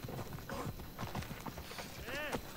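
Horse hooves clip-clopping in the video game Assassin's Creed Odyssey, a quick irregular run of soft thuds with a faint whinny-like sweep near the end, heard under a quiet background.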